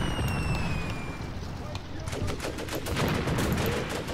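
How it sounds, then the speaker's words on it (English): Incoming artillery fire in the war game Graviteam Tactics: Mius-Front, with a steady rumble of distant explosions and gunfire, crackling bursts that build and thicken toward the end. "to receive that much incoming artillery fire"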